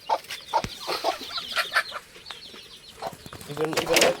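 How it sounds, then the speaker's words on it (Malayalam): Native country hens cluck repeatedly nearby in short irregular bursts, with louder, busier clucking toward the end amid light outdoor background noise. "ഇതാണ് ഇവിടെ നിലവിലുള്ള കോഴികൾ കേട്ടോ. നാടൻ കോഴികൾ ഇതാണ്"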